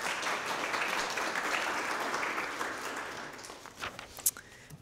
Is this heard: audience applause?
yes